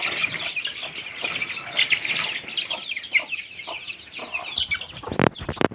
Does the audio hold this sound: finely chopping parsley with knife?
no